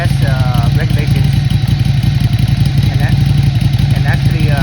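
A Ducati 797 motorcycle with a Termignoni exhaust and no remapped fuel map idles and blips its throttle, a loud, close, lumpy twin-cylinder thrum with occasional rising revs.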